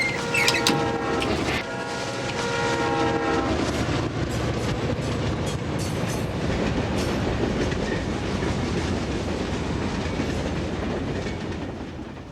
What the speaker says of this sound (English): the warning horn is sounding